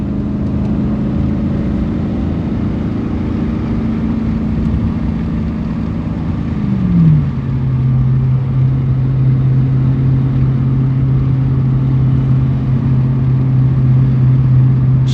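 A Chevy Vortec truck engine runs steadily while driving, a loud close drone whose pitch dips once midway, then settles into an even hum with no talking.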